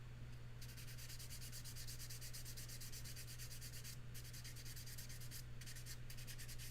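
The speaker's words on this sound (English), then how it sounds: "I'm gonna sand her down again" Steady scratchy hand sanding of a model bust's hair, back-and-forth strokes in a fast, even rhythm, close by, with a couple of brief pauses.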